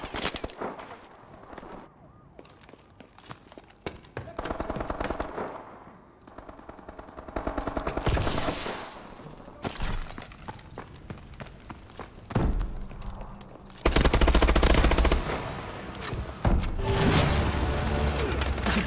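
Rapid bursts of Call of Duty: Advanced Warfare multiplayer gunfire crackle and rattle, with automatic fire and loud blasts coming in waves over a busy, noisy backdrop.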